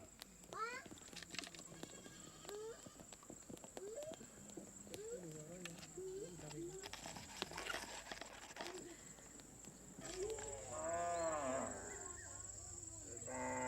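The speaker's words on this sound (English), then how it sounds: "At the end of the day, the cattle are driven slowly home." Pokot cattle driven home at the end of the day in rural Kenya, with a few low moos and animal calls over an outdoor background, a louder bellowing call near the end and steady ambient hiss throughout.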